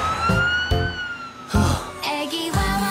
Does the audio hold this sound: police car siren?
yes